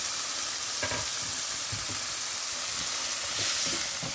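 Tomatoes and tamarind fry in oil with a continuous, fairly loud sizzle and hiss, under the occasional soft scrape of stirring. No voices.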